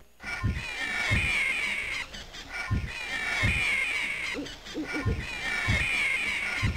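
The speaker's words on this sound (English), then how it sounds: "And more owls." Owl hoots and bird calls in the video game Anvil of Dawn, repeating low calls several times over a steady, busy game ambience.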